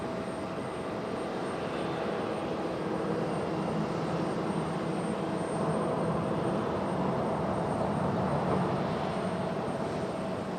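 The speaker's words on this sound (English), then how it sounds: "Beautiful sounding A300 though." Airbus A300 engines at Raleigh Durham airport give a steady, loud broadband roar with a faint high whine, continuous throughout with no talk.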